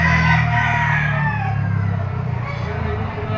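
A three-year-old Golden Boy Boston gamefowl rooster in Lipa City, Batangas lets out a long, loud crow that fades at the tail, close to the microphone.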